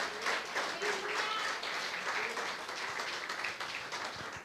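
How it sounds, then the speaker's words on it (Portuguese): Church congregation applauding in praise, a steady wash of many hands clapping at moderate distance for several seconds, with faint voices mixed in beneath it. "Agora pode aplaudir ao Senhor"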